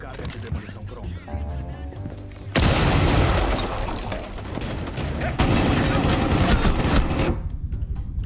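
In a Rainbow Six match, a demolition charge goes off with a sudden loud blast that swells into several seconds of dense crashing debris and gunfire-like noise, while players talk over the game sounds.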